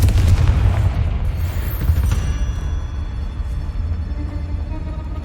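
A booming fiery blast from the Confringo spell in Hogwarts Legacy, loud and close, then a deep rumbling tail that slowly fades.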